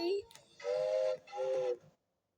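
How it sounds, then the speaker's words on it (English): Stock cartoon train whistle used for Thomas the Tank Engine: two long, clear, reedy toots in a row, loud and close, that then stop into silence. "Thomas is depicted with a stock cartoon whistle, but different one this time"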